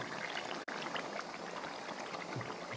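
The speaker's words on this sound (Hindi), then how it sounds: "और अब मैं इसके अंदर डाल दूंगा दही" Yogurt added to aloo gosht matar frying in a pot, giving a steady, busy sizzle and bubbling hiss that runs throughout, with a brief dropout early on.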